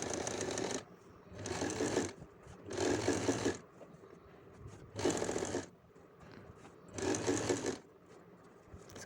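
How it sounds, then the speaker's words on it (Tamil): Sewing machine stitching shawl fabric in five loud bursts of steady whirring, each about a second long, separated by short quieter pauses, with no talking. "இப்போ நம்ம வந்து திருப்பிட்டு ஸ்டாப் ஸ்டிச் போட்டு எடுத்துக்கலாம்"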